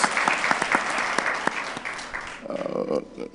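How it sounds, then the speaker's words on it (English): Applause from a room full of people at a board of commissioners meeting, steady clapping that fades out, followed by a voice starting to speak. "let's give them a round of applause"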